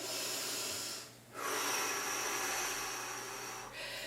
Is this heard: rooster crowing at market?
no